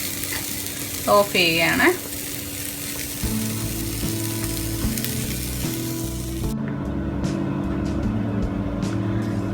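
Food sautés in heated oil in a pan with a steady, close sizzle. A brief voice speaks early on, and the frying continues alone afterward.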